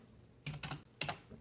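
A computer mouse clicks during SketchUp work, a few faint, close, crisp taps in two small clusters over near silence.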